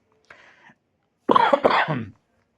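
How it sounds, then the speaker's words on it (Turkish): A soft throat sound followed by a loud, close cough burst of a couple of hacks, then silence. "Öksürük tuttu."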